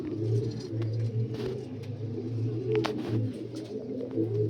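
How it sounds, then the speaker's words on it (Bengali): Pure Harigutu line pigeons with two newly hatched chicks coo in steady, low repeated phrases throughout, close by, with faint higher chirps over a constant background hum. "এই যে বন্ধুরা আমার পিওর হাড়িগুটু লাইনের পায়রা, দুখানা বাচ্চা ফুটেছে"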